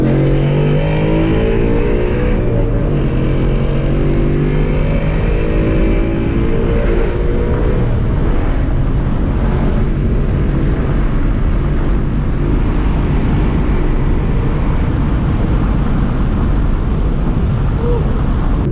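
A car engine revs hard through the range as the driver bangs gears from a rolling start, its loud droning roar climbing and surging continuously for the whole stretch.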